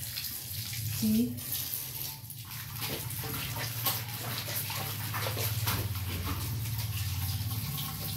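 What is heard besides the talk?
water flowing like a waterfall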